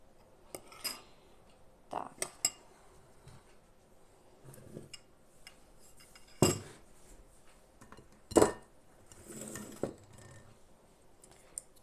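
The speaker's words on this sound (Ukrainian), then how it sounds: "Все це добре розмішуємо і будемо намащувати нашу рибку." Spoon clinks and scrapes against a bowl as sour cream is stirred with ground black pepper and salt into a coating for pike, in a few scattered bursts separated by quiet pauses, close and fairly soft, with no talking.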